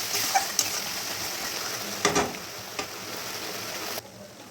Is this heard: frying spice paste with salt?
yes